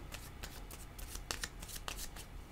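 Tarot or oracle cards are shuffled by hand during a card reading, making quick soft riffling flutters and slaps in a rapid irregular rhythm, close and fairly quiet.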